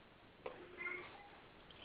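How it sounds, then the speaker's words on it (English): A house cat cries faintly at a basement door, a brief muffled meow in the distance during an online meeting. "that's my cat who's crying to get into the basement"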